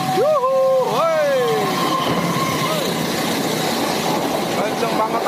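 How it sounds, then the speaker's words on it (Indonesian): A train horn blares with bending, sliding tones over the loud, continuous rumble and roar of a train rushing past close by, approaching from the Jatinegara direction. "Akan masuk kereta dari arah Jatinegara"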